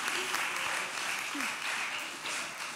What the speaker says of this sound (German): Ich glaube, da geben wir einen Applaus, oder?